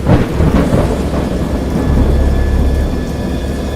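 A video game thunderstorm rumbles heavily and continuously, with deep rolling thunder over steady rain, loud and close, no voices.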